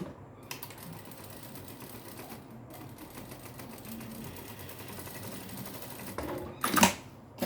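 A sewing machine runs steadily, stitching the strap of a mini backpack in a continuous close whirring rattle, with a brief sharp clatter near the end.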